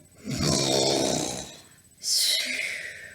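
A voice imitates snoring with two drawn-out rasping breaths, a long rumbling inhale followed by a shorter, higher wheezy one.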